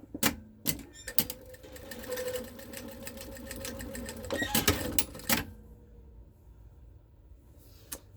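Sewing machine stitching quilt fabric in short bursts of rapid mechanical chatter, close and fairly quiet, with pauses and a stretch of near silence before a final brief run.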